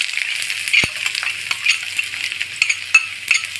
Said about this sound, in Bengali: তেল গরম হয়ে গিয়েছে, দিয়ে দিব পেঁয়াজ কুচি।